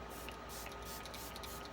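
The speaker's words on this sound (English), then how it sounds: "we're going to go in with this setting spray. This is the Tarte Stay Spray." A Tarte Stay Spray setting spray bottle mists in a continuous soft hiss, close and steady throughout, with no voices.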